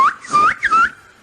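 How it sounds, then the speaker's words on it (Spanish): A person whistles a few short rising and falling notes in two close bursts, then fades out, fairly loud with no talk. "Si tú silbas, yo silbo, entonces silbé."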